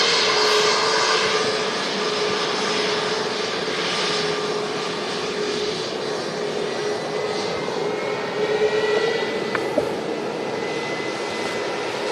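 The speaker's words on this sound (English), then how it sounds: "the Jet2 A330 next in." A Jet2 Airbus A330 arriving at Manchester Airport gives a loud, sustained engine roar and whine that holds steady throughout without fading.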